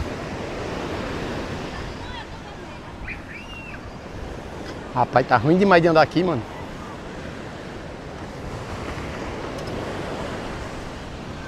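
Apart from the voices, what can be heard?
ocean waves breaking on the beach at Boa Viagem, Recife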